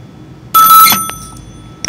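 A telephone rings as a caller dials in to a live engineering call-in show: one loud burst of ringing that stops abruptly, with a few faint clicks afterward and no talking.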